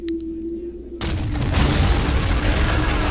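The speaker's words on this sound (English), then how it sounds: "That was certainly quite the explosion." Explosion in the Men of War strategy game, a sudden loud deep boom that cuts in after a second of quieter ambience and rolls on as a sustained heavy rumble to the end.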